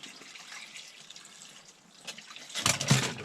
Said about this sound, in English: We're gonna put some water in the bottom of this.